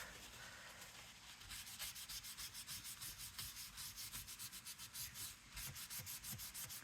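Thick lunar paste is rubbed off a surface by hand in quick, rhythmic back-and-forth strokes, a close dry scrubbing that grows steadier and more pulsed after the first couple of seconds.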